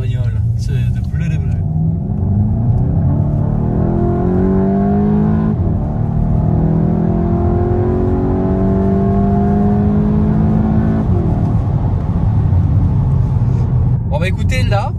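A 2021 Volkswagen Golf 8 GTI hatchback's engine revs hard in sport mode with exhaust valves open, through several gear changes, the pitch climbing and dropping with each shift, loud and close from inside.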